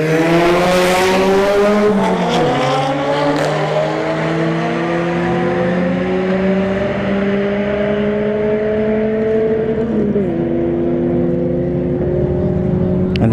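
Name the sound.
Audi S3 versus Honda Civic drag race run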